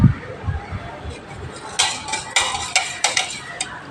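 A spoon stirs and mixes food in a pot, giving a run of sharp metallic clinks and scrapes against the pot, close and fairly loud, with a few soft low thumps just before them.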